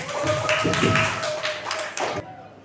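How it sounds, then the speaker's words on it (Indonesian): A classroom audience claps for a student group: a short burst of dense, fairly close clapping that stops abruptly after about two seconds. "Tepuk tangan untuk kelompok."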